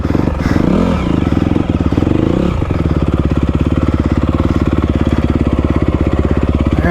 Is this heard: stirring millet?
no